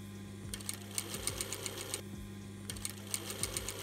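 A sewing machine stitches binding onto a fabric dust mask in two rapid bursts of rhythmic mechanical clatter with a steady motor hum, close and clear, pausing briefly between runs.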